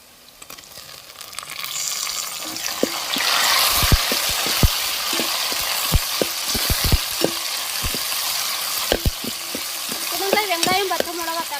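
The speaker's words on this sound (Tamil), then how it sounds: "நம்ம வெட்டி வச்ச தக்காளி எண்ணெயிலே வதக்கி எடுத்துக்கிறோம்." Chopped tomato sautéing in hot oil with onion and green chilli gives a steady loud sizzle, punctuated by frequent sharp spoon clicks against the pan as it is stirred.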